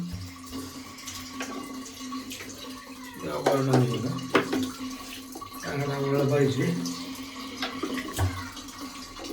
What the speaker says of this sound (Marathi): एकच मिनिट पाणी लावलंय थांबा